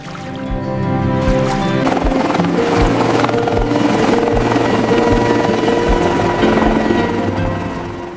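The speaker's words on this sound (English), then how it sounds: "The helicopter flew over the vast ice toward the pod's location." Steady loud helicopter rotor thumping and turbine whine over Arctic sea ice, close and continuous throughout, with no voices.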